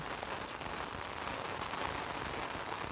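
Heavy rain pours steadily in a Marathi village, a dense, even hiss of falling water that holds at the same level throughout, with no voices over it.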